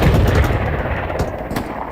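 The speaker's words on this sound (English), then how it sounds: "Grenades going off." Grenades going off during a 49 vs 49 World War II-style online battle at Sainte-Mère-Église, heard as a dense rumble of booming blasts and overlapping gunfire throughout, loud and close with no talking.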